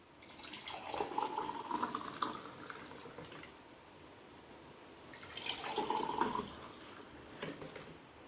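Fennel seed juice made with chilled milk pours into a glass in two separate bursts, a soft continuous splashing trickle with a quiet pause between pours.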